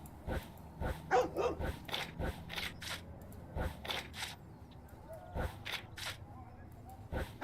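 Dogs in the video game Hitman GO bark in a run of sharp, repeated barks at an uneven pace, some close together and others spaced apart, fairly loud and near.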